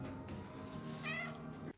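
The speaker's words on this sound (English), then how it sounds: "Hey, found a cat." A cat meows over an underlying film soundtrack, with a clear drawn-out meow near the middle of a short passage and steady background sound throughout.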